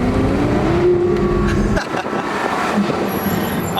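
A Porsche Carrera GT pulls away in first gear with a manual clutch. Its engine is a loud, close rumble that drops in pitch partway through as the car rolls off, and the steady roar continues without talk.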